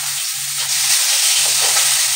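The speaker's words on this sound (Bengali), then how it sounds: "মাছটা ভাজা হয়েই গেছে প্রায়" Fish that is nearly done fries in a pan, making a loud, steady, close sizzle with a faint low hum underneath.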